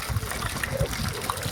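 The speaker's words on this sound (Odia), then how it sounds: "ଏଠି ପାଣି ପୁରଉଛି" Municipal tap water pouring into a container, a steady close rush and trickle with a faint voice under it.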